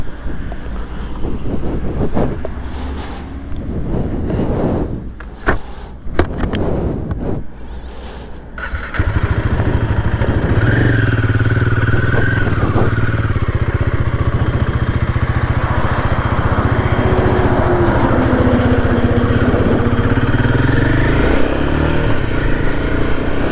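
A Royal Enfield Himalayan 450 motorcycle being ridden, its engine a steady, loud drone under heavy wind rush, with gusty buffeting at first before the sound settles into a continuous ride.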